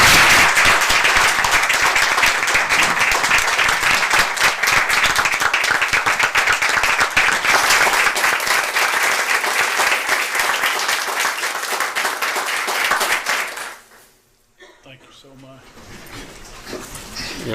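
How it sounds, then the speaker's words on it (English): Audience at a school board meeting applauds steadily for about thirteen seconds, dense and close, then the clapping cuts off abruptly and a quieter room tone follows. "stand and accept our applause and thanks for a great job."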